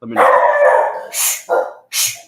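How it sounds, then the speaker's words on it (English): A dog barks nearby and loudly, first with a long howling bark and then with three short sharp barks in quick succession. "I was going to ask you about the dog."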